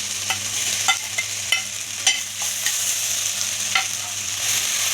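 Onions and tomato sautéing in a pan for Malabar chicken biryani, a steady close sizzle broken by sharp spatula scrapes and stirring clinks every second or so, with no voices.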